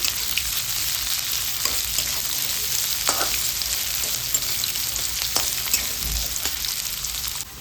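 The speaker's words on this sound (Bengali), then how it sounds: "পেঁয়াজ কুচিটাকে অল্প একটু ভেজে নেবো হালকা" Chopped onions frying lightly in a pan for a stuffed bitter gourd dish, a steady soft sizzle with occasional stirring clicks and scrapes, close and continuous with no talking.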